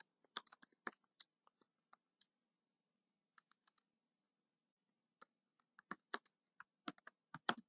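Computer keyboard typed on in sparse, irregular bursts of crisp, close key clicks, with quiet gaps between runs of keystrokes.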